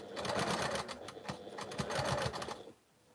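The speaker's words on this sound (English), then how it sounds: "of my machine using my hand crank, and then just going all the way down this last edge over here, 1/4 inch" A hand-crank sewing machine runs steadily along a quarter-inch edge seam, a close, fast rhythmic whirring clatter that stops abruptly near the end.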